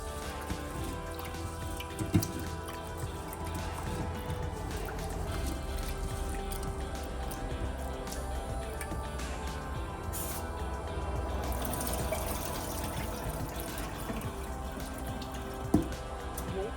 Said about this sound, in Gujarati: દાળ ચોખાને આપણે સારી રીતે ધોઈ નાખીશું 4-5 વખત